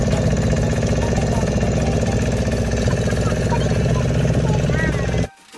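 Boat engine on Chilka Lake as the boat pulls away: a loud, close, steady chugging motor drone with a rapid rhythmic throb, running continuously before cutting off abruptly at the end.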